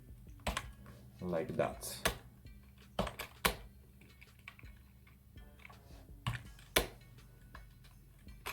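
Code being typed on a computer keyboard, with scattered sharp key clicks and small bursts at a close distance under faint, occasional talking.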